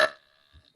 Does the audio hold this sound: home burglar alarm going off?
no